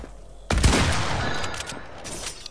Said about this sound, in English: Edit the ramp and then headshot no-scope with our blue hunting rifle